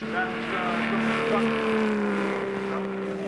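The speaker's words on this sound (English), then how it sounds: "there's our leader splashing his way through" A vintage racing car splashes along a wet circuit at the Goodwood Revival St Marys Trophy, its engine a steady droning whine with shifting pitch, heard under continuous commentary.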